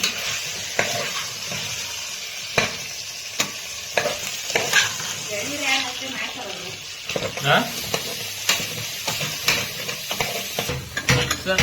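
Marinated chicken fries in oil in a pan, a steady sizzle broken by repeated scraping and clanking of a spoon stirring against the metal, with faint talk in the background.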